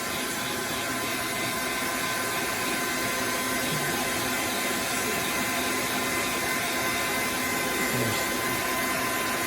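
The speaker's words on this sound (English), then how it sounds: "So you want to get a real decent hair dryer." A hair dryer blows steadily at close range while drying knots of badger hair, an even, continuous whoosh with a faint voice underneath.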